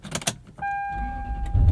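A 2000 Lexus LX 470 with about 300,000 miles and a muffler delete fires up after a few clicks and a whining starter, settling into a deep, rumbling idle that swells louder near the end.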